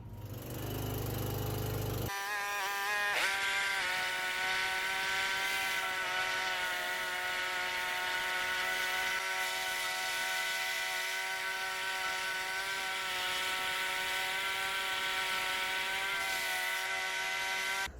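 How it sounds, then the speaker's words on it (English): A lawn mower engine cranks over briefly, catches and then runs steadily at a loud, even idle drone close by, with no talking over it. "I wonder if my mower will start."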